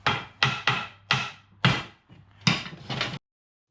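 Tapping on a U-joint of a Ford F150 drive shaft, six or seven sharp metallic knocks in an uneven rhythm, close and loud, then silence.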